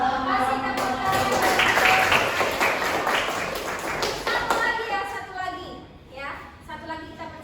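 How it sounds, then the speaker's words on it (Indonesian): An audience at a school career-planning presentation claps in a sustained burst of applause with scattered taps, fading toward the end while voices talk over it. "Masih tepuk tangan."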